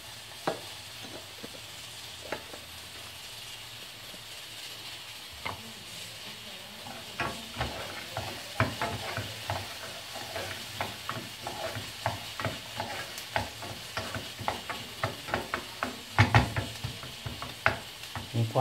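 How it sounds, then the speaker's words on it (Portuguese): Onions sizzle steadily in a pan for mango chutney while a utensil scrapes and stirs in quick, irregular strokes that grow busier and louder toward the end. "Enquanto a cebola frita ali,"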